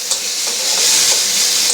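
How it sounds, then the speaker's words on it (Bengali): Food fries in a pan with very little oil, giving a continuous bright sizzle and hiss that swells slightly partway through, close by and without voices. "আমার এটা ভাজা ভাজা হয়ে গেছে"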